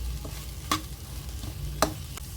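Chopped chapati kothu parotta fries in a pan under a constant sizzle, stirred with two sharp spatula strikes and lighter scrapes, close and fairly loud.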